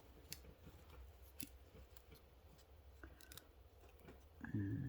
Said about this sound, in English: Let's cut a little divot.